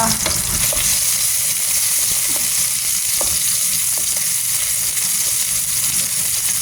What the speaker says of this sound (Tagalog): Haluin ng sibuyas hanggang sa lumabas na yung aroma niya.